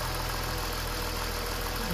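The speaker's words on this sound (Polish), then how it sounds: "silnik już zaczyna jakby gubić zapłony" A BMW petrol engine idles with a rough, uneven rhythm from a faulty crankcase breather, misfiring, its steady low drone broken by faint stumbles and knocks, close up and without voices.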